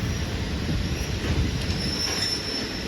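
A train pulls into a Bangkok station, its wheels squealing loudly and continuously over a deep rumble of rolling railcars, close by.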